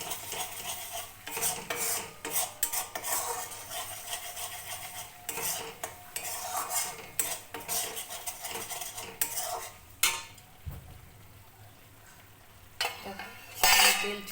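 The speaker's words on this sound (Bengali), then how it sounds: "আর একটু কষাবো।" Masala sizzles in oil for restaurant-style shahi paneer while a metal spatula scrapes and stirs the pan in repeated strokes, close and clattery, with a short quieter stretch before the stirring resumes, no voices.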